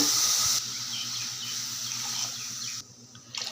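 Water is poured in a steady stream into a hot pan for a few seconds, then stops, leaving quieter background noise and a brief clatter at the end.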